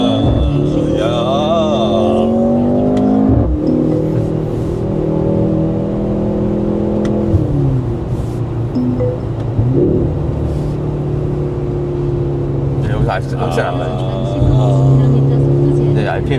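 A Mercedes-AMG car engine revs and holds in a steady, loud rumble, its pitch climbing and settling several times as if held to a limit near 4,000 rpm, while people talk over it inside the cabin.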